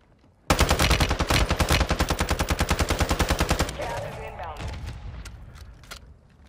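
A video game automatic weapon fires a long, rapid, loud burst of evenly spaced shots lasting about three seconds, then echoing tails and scattered distant impacts.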